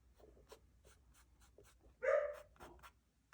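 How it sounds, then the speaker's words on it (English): A single sharp dog bark rings out, a little distant, amid quiet scratching sounds and faint panting. "I have no idea what my dog is barking at."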